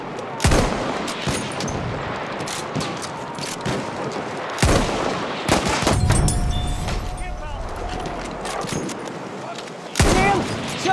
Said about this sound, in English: Machine gun! Watch it, boys!